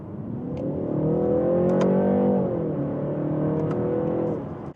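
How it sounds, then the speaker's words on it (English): A 2025 BMW 330i xDrive with a non-sport automatic transmission accelerates from inside the cabin, its engine note rising steadily, dipping at an upshift midway, then climbing again, smooth and fairly loud, with no voices. "This non-sport automatic transmission, although is very smooth, it just feels a little bit slow to shift, especially when upshifting at high RPM."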